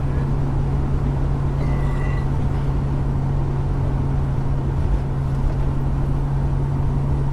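A boat's V8 engine with twin exhaust and mufflers runs at a steady idle, a continuous low drone with a constant hum and no changes in pitch or rhythm throughout.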